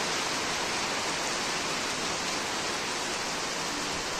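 Heavy rain pours down in a dense, continuous broadband hiss, loud and unbroken throughout, with no voices over it.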